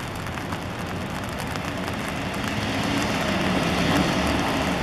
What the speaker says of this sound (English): As you can see, it's raining, it's foggy, and it's dark out this morning.